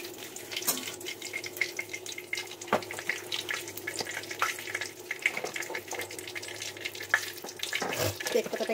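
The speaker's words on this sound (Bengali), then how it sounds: "তেজপাতাটা একটু ভাজা ভাজা হোক বন্ধুরা।" Bay leaf frying in hot oil in a home kitchen, a faint steady crackle and sizzle with scattered sharp pops and clicks.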